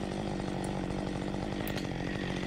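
A chainsaw cuts through a tangled, hung-up tree under tension during a difficult tree removal, running at a loud, steady high rev close by and without pause.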